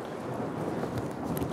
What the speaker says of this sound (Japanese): なんか雷が鳴ってますけど。